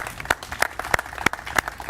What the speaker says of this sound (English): all of y'all should give yourselves a round of applause